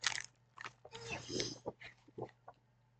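Crunchy Turkish chocolate biscuit cookies being bitten and chewed up close, a series of sharp crisp crunches followed by softer chewing.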